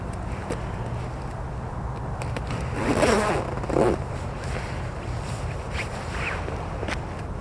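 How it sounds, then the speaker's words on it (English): A zipper on a Moncler Mayaf fur jacket is pulled up in a couple of quick, close rasping strokes midway through, against quiet room background. "So let me zip this up again."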